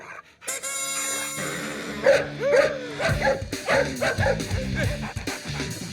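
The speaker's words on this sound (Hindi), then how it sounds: "अबे कुत्ते, गाड़ी के अंदर बैठ के भौंक रहा है" A dog sits inside a car and yaps and barks in a rapid string of short calls over a steady tonal hum, close and moderately loud, with music-like sustained tones underneath.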